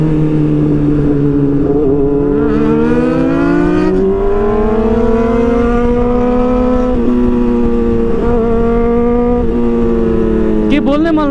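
A superbike engine, one of a group including a BMW S1000RR, Honda CBR 600RR and Ducatis, roars loud and close, its pitch climbing and dipping through repeated revs and gear changes over steady riding noise.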